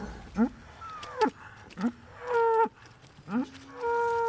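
Dairy cows moo repeatedly on a farm, several loud, close calls rising and sliding in pitch, one after another with brief gaps, over a faint background and some speech-like murmur.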